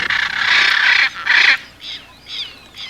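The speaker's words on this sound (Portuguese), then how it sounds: "Preparem seus ouvidos, pois é justamente neste ponto que as araras azuis falam mais alto." Loud, harsh squawking calls from hyacinth macaws in the Pantanal, a long raucous burst followed by shorter cries, close and carrying over the background.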